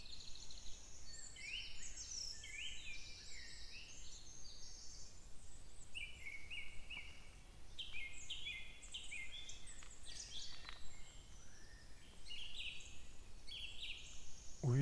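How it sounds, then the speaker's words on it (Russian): Songbird heard in a flower park in Kislovodsk, not a nightingale, singing from about 50 metres away: continuous bright chirps and warbled phrases over steady outdoor background, fairly faint, with no voices. "что за птица поет? Мне прям нравится."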